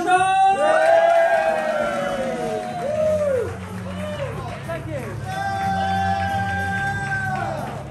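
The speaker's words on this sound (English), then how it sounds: "massive, massive kick-ass round of applause for Sparkle Motion!" At a film awards party, the crowd erupts in cheering, whooping and yelling. Loud voices swoop and shout over a continuous noisy roar for the full stretch.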